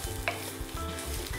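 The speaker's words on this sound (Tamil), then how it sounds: "நீங்கள் ஒரு 2-3 மினிட்ஸ் அந்த மாதிரி வதக்கிடுங்க" Curry leaves sizzle as they are sautéed and stirred in a hot pan for curry leaf powder, a continuous frying crackle broken by rhythmic stirring scrapes, with no one speaking.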